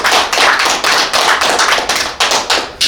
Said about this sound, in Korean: 저희가 다시 한번 우리 류용 회장님께 큰 박수 부탁드리겠습니다